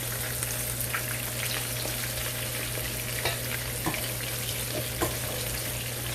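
Chicken wings fry in hot oil, a continuous close crackling sizzle with occasional sharper pops over a steady low hum.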